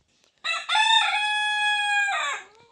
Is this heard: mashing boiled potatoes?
no